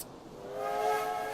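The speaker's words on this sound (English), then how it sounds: "I can blow a whistle." Steam train whistle blowing in the railway video game Railway Empire, a single sustained, breathy blast that swells in loudness and holds steady, with hiss layered through it.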